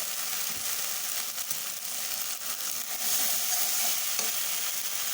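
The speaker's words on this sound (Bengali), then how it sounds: "ভালো করে কষিয়ে নিচ্ছি।" Curry masala with duck eggs and cauliflower sautéing in a pan: a steady, close hiss of frying with scraping stir strokes, growing slightly louder toward the end.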